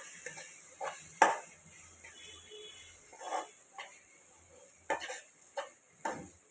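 Mango pickle, mamidikai pachadi, is mixed in a hot pan, giving quiet scrapes and a few sharper clicks of a spoon against the pan over faint sizzling, spaced irregularly and fairly soft.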